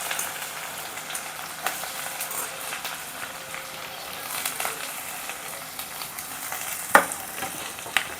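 Green chillies and onions frying in hot oil in a wok for a broad bean curry, giving a steady close sizzle with occasional stirring scrapes and a sharp clatter near the end.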